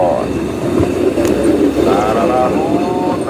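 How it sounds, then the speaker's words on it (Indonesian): A KA Argo passenger train rolls past at a station with a steady, loud rumble, faint clickety-clack and a thin wheel squeal building toward the end, a voice briefly heard over it. "Ini adalah KA Argo"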